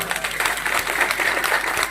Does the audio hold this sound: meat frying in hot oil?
no